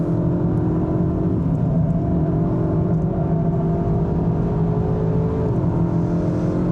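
A Leon VZ333 city crossover drives on a Formula 1 circuit, its engine holding a steady droning hum with a slight pitch drop near the end, loud and close throughout with no talk.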